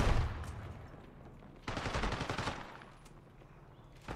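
Rapid bursts of PP919 SMG fire in Black Ops 6, fairly faint and distant-sounding, two dense automatic bursts with a short gap between them and a brief burst at the end.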